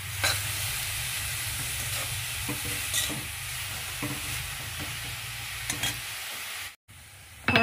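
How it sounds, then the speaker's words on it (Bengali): Grated carrot sizzles steadily in ghee for carrot halwa, with loud, continuous frying and crackling close by. Occasional stirring scrapes cut through, and the noise briefly drops out near the end. "এবার এটা ঘি দিয়ে আমি ভাজছি, 5 মিনিট মতো ভাজব"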